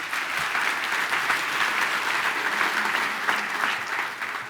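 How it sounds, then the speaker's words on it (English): A large audience at an award gala claps in a full, sustained round of applause, a loud dense roar of many hands that holds steady for several seconds without talk on top. "That applause belongs to Jeff Bridges"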